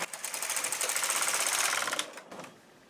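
A knitting machine carriage with the ribber attached is pushed left to right in one pass, a loud, close, rapid mechanical rattle lasting about two seconds. It then trails off into a fainter clatter, with no talking.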